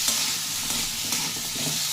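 Peas fry in a pan with coriander, cumin, turmeric and ginger paste, giving a dense, unbroken sizzle with soft stirring scrapes. It is close and fairly loud, with no talking.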